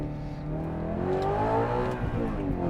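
Audi R8 V8 pulling hard in sport mode, its engine note climbing in rising harmonic sweeps, then easing and building again, loud and continuous with no voices over it.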